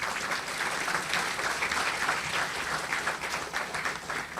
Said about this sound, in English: Let's give both our gentlemen here a round of applause.